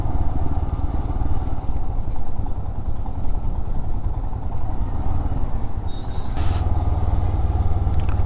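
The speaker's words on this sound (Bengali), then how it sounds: "এইভাবেই ইঞ্জিন ব্রেকিং করে করেই নামতে হবে" Motorcycle engine braking on a steep mountain road descent, a steady low engine drone under heavy wind rush throughout, with a brief higher whine near the end.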